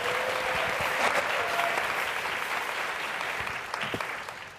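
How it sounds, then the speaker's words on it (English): Sustained audience applause for a panel at a tech inclusion discussion, dense and even clapping from a sizable crowd that slowly tapers, with a few isolated sharper claps near the end. "And a great round of applause for our full panel."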